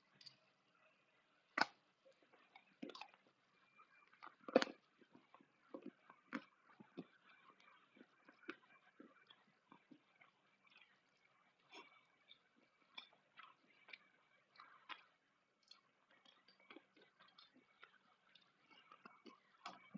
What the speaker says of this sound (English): Ready for crunchy noises from the chocolate?